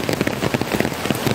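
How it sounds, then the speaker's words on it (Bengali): Heavy downpour drums on an umbrella held overhead beside the Kameng River in the Arunachal Pradesh hills, a dense close patter of drops in quick uneven bursts, with no voices. "প্রচুর বৃষ্টি হচ্ছে,"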